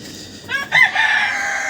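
A rooster crows once, loud and close, the call rising then holding in a drawn-out tail.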